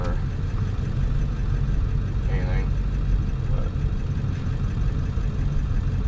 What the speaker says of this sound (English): I'll stay quiet so y'all can just hear the driving noises